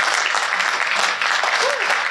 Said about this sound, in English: Let's give a round of applause to both Reuben and to Mr. Lewis.